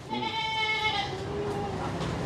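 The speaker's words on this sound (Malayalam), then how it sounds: "ഇത് വലിയ ആടാ. കണ്ട വണ്ടൻ ടൈപ്പ് ആട്." A large goat gives a few wavering bleats up close, loudest in the first second and fading after, with farmyard background noise.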